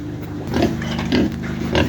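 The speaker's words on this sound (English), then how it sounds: "Now, look at these pigs here." Pigs in a farm pen, fed on palm kernel cake, grunt and snort close by in three short rhythmic bursts over a low steady background.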